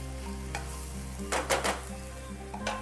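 Shrimp, green beans and cannellini beans are stirred in a pan over a soft sizzle, with a few scraping strokes of the spoon close by, set against a steady low hum.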